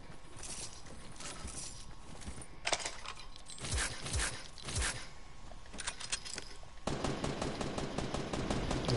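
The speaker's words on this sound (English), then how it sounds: "Is that you shooting?" Rapid bursts of video game gunfire crackle across the scene, with scattered single shots giving way to a steady, dense run of automatic fire near the end, moderately loud with no talking.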